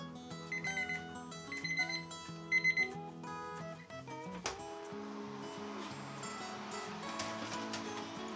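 An alarm clock rings with repeated bright electronic beeps at first, then gives way to a steady tonal melody that plays on at low volume with no one speaking.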